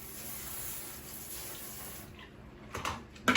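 Tap water runs steadily over a houseplant tray being rinsed, a soft close hiss that thins out before a few louder splashes and clatters at the end.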